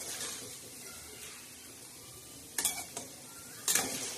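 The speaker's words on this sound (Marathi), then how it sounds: "सर्वच मोदक आपण भाजणार आहोत म्हणजे भाजणार म्हणजे तळून घेणार आहोत" Wheat flour modaks frying in hot oil, with a soft steady sizzle punctuated by a few sharp bright clinks and scrapes of a utensil against the pan.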